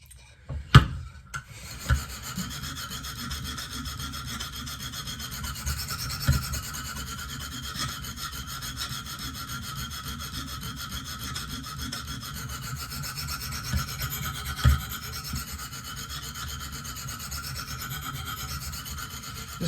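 A KME fixed-angle sharpener stone works a Benchmade Steep Country knife edge with steady close-up rasping strokes. There are a few sharper knocks early and near the end, and no voices.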